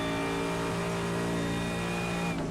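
A 6.3 litre V8 GT race car at Circuit de la Sarthe roars loudly and continuously at high revs, its pitch rising slightly, with no talk over it.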